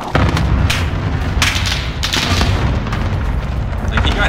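Loud explosions boom in the Call of Duty Warzone video game, with several heavy blasts in quick succession over a constant roar of battle noise.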